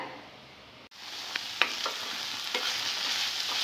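Moong dal frying in a pan, with a continuous close sizzle and occasional light scrapes and taps of a stirring utensil; steady and moderately loud, with no voices.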